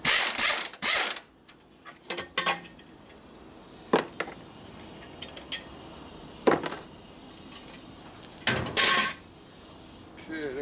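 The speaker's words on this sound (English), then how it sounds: "Let's use the right socket." A socket wrench ratchets and clinks on parts of a 1972 Harley-Davidson Sportster 1000cc Ironhead being rebuilt as a street tracker, with a few close bursts of clicking and scattered metallic knocks among quieter gaps.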